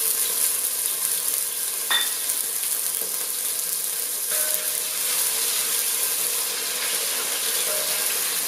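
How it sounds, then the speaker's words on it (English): Tofu sizzles in hot sesame seed oil in a pan, a steady bright hiss with a few faint clicks of utensils, no talking. "to the sesame seed oil, I'm going to be adding in some tofu"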